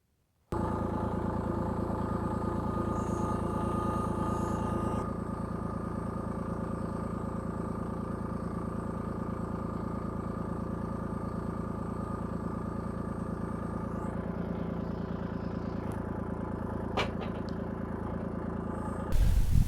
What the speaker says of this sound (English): When I pull in here with the tractor, it's so cockeyed because that end's sinking down a lot still.